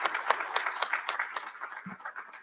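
Steady applause rattles from an audience at a college recognition ceremony, a dense patter of many hands clapping at moderate loudness with a faint murmur underneath.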